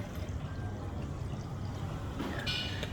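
Drinking water poured from a bottle into another water bottle, a steady close trickle running throughout with a brighter splash near the end, with no talk.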